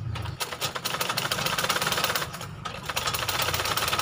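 Sewing machine stitching rubber-backed motorcycle seat fabric on a Jumper Z1 seat, a steady rapid mechanical rattle running loud and continuous throughout with no talk.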